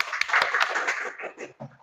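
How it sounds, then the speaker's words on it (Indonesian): A classroom group gives brief clapping to a student group, a short burst of scattered hand claps that thins out quickly. "Tepuk tangan kelompok 2."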